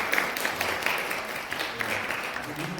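A church congregation applauds to welcome a new student during a Sunday service, steady scattered clapping throughout, fairly soft and distant in a reverberant hall.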